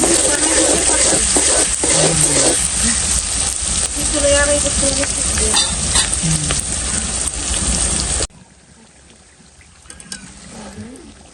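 Spice paste frying and being stirred in a pot, loud and close, with a crackling sizzle and the scrape of a spoon. Light talk comes through now and then, and the sound drops sharply near the end to a quiet background.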